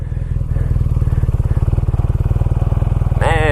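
A BMW R nineT Scrambler motorcycle pulls hard in second gear with a loud, throbbing engine note that rises steadily. A quick rising whine comes at the end.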